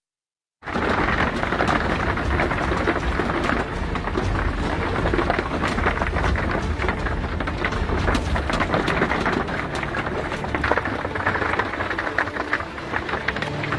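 A heavy storm roars without pause, with dense rain noise and deep rumbling that swells now and then; no voices.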